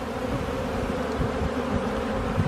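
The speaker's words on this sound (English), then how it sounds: "Bees." Honeybees buzzing around an open hive during a beekeeping inspection, a dense continuous drone with no pauses, close and steady at moderate volume.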